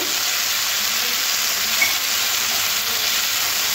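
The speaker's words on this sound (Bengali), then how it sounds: "ভালো করে মশলাটা কষে নেব।" Spiced cabbage with turmeric, chili powder, salt and a splash of water fries in a pan, giving a steady, loud, dense sizzle with faint stirring underneath and no voices.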